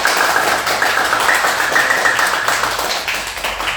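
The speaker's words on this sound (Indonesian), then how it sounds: "Beri tepuk tangan sekali lagi untuk Kak Sofi." A talk-show audience claps for a guest in a steady, dense burst that lasts a few seconds at fairly close range. No one speaks over the clapping.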